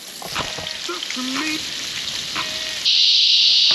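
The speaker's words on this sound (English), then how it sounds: "We're cooking salmon, onion, garlic, coconut milk." Salmon, onion and garlic fry in a pan at a riverside campsite, sizzling steadily up close with occasional stirring, and the hiss grows louder toward the end.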